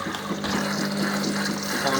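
A Hoover HLW585DC washing machine fills with water for its final rinse, a steady close rush and hiss of inflowing water.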